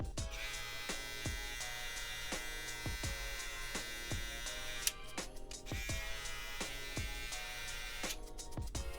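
An electric beard trimmer buzzes steadily at close range while cutting a medium-length beard, with repeated rhythmic taps against the skin and two brief pauses in the motor tone.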